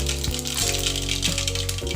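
Cumin and mustard seeds crackle and sizzle in hot oil in a pan, a dense, continuous frying hiss with sharp pops and rattles, loud and close, no talk.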